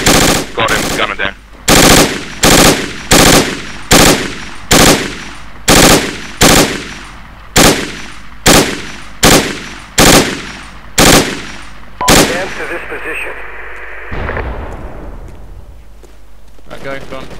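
PKM machine gun fire in the Project Reality video game, fired in loud, close bursts of rapid shots in a steady rhythm, with a rumbling echoing tail after the last burst.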